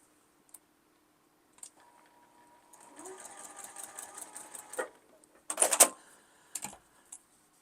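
A sewing machine stitches quilt block columns in soft, close rattling runs, a longer stretch followed by a brief louder burst, with a few isolated clicks around them in a quiet room.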